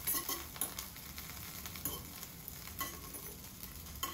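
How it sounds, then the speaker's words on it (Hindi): Bread crumbs fry in a pan with a soft, continuous sizzle and occasional stirring scrapes, close but quiet, with no voices. "और इसी में हम ये ब्रेड क्रम्स डाल देंगे। इनको अच्छे से फ्राई करेंगे।"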